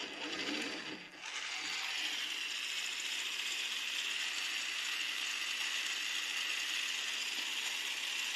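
A kids' ride-on toy car's small motor and gearbox whir continuously at an even pitch, a steady close-up mechanical hum with a faint grinding texture.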